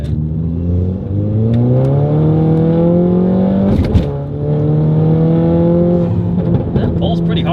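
Modified Mk6 Volkswagen GTI accelerating hard, its engine note climbing steadily through the gears with a brief shift break and a few exhaust pops near the end, heard from inside the car under occasional speech.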